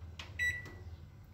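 A microwave oven beeps while it is being switched to convection mode for baking. One clear electronic beep stands alone against a quiet kitchen background, with a couple of soft clicks from the control panel around it.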